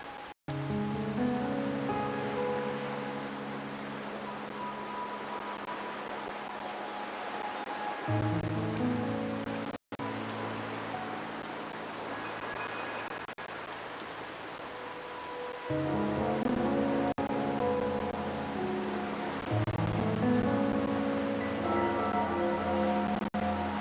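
Steady rain falling at night in the video game Wuthering Waves, a soft continuous hiss under gentle melodic music with sustained tones.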